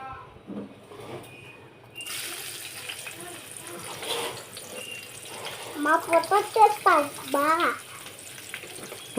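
Chopped onions dropped into hot oil in a pan for an eggplant masala curry, heard as a sudden steady sizzle that continues close by while someone talks over it.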